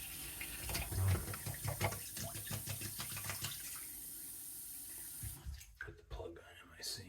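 Tap water running into a plugged sink, a faint close trickle and splash that changes character partway through as the basin fills, with some low voices.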